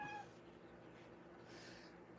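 A female cat gives a brief, faint meow at the very start, then only steady background hiss follows.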